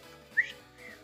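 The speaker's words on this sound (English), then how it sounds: "Oh, they're whistling at the dancing girls." A single short, bright whistle sounds over a low hum of background music in Final Fantasy VI, a brief rising note with a faint trailing tone after it.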